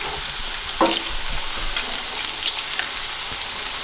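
French fries frying in hot oil give a steady close crackling sizzle with a few sharp pops and stirring clicks, alone without talk.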